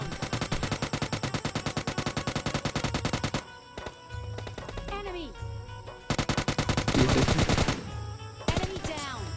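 Rapid automatic gunfire from a battle royale video game, dense bursts of shots loud and close, broken by short pauses with game effects, then resuming in heavy volleys; a voice talks briefly in between.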